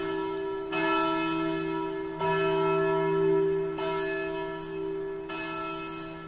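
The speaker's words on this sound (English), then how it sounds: "A bell?" Deep church-style bell in the video game Kingdom Hearts: Birth by Sleep, tolling four times at steady intervals with long ringing overtones that carry between strikes, loud and with no talk over it.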